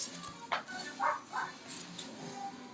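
A dog in an advertisement gives a few short, quick barks and yips, faint and close together, against a light musical background.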